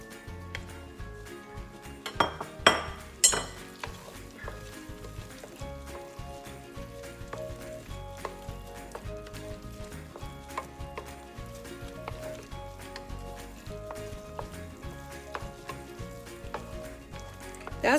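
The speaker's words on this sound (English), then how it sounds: "now we're gonna throw the shrimp back in here" Shrimp tossed back into a sizzling Chinese lobster sauce in a pan: a soft, continuous sizzle with scattered light clinks and scrapes of utensil on pan, a brief louder clatter early on, close but fairly quiet.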